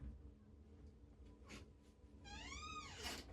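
A pet cat meows in a rising, wavering call near the end of a short stretch of quiet room tone, with faint rustling and soft knocks before it.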